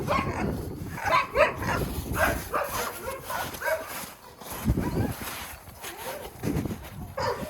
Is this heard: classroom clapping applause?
no